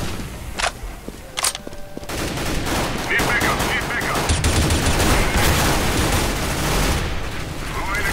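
Video game gunfire: a few isolated shots early, then sustained rapid automatic fire with some separate pops running to the end, loud and close, with a voice faintly under it.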